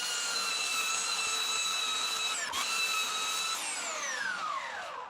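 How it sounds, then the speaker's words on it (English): A belt sander whines steadily and close while smoothing a wooden surface for a bottle opener and candle holder, its tone dipping briefly under load and then sliding down as the motor winds off. "I decided to go after the other surface just with my belt sander and get it cleaned up as much as I could"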